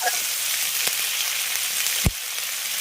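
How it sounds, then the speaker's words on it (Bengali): Onion stalks with salt fry in a pan, a steady close hiss of sizzling oil with a couple of brief stirring knocks. "লবণ দিয়ে পেঁয়াজ কলিটাকে ভেজে নেবে এতে পেঁয়াজ কলিটা অনেকটা নরম হয়ে যাবে"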